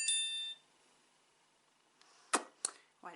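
A phone left off mute chimes with a short, ringing notification ding with bright sustained tones, followed by quiet and then a few sharp clicks and taps nearby.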